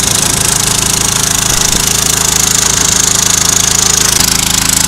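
Loud, steady chugging of a small gold dredge engine running close by on the water, a constant rapid pulse with a continuous hiss over it.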